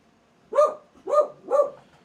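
A dog barks three times close by, sharp and evenly spaced, with quiet between each bark.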